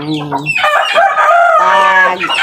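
A rooster on a small backyard poultry farm crows loudly and close, with short clucking calls from chickens just before the drawn-out crow.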